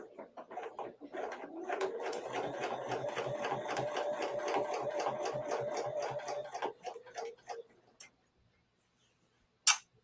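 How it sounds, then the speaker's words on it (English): A sewing machine stitches a section of fabric in a steady, rapid whirr for about seven seconds, then slows and stops, with a single sharp click near the end. "Now we'll come here and this side and stitch this portion."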